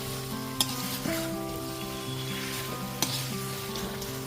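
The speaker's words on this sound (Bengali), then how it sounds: "ভেজে রাখা সমস্ত পনিরের টুকরোগুলোকে এবার খুব ভালো মতো মিশিয়ে নেব" Fried paneer pieces tossed and stirred in a sizzling pan for chilli paneer, a steady frying hiss with a few spoon knocks against the pan, close up and without voices.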